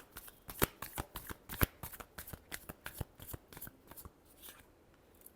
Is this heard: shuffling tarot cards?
yes